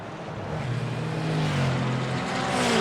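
GT4 race cars, a red Porsche and a white McLaren, roar past at Virginia International Raceway, their loud, close engine note rising and swelling steadily.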